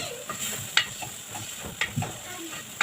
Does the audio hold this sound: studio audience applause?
no